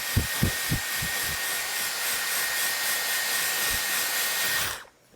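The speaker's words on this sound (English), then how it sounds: "see whether or not the blow dryer attachment is really worth it" A Dyson Airwrap with its blow dryer attachment runs at full power, a steady loud airflow roar held for about five seconds with a few low thumps early on, then cut off abruptly near the end.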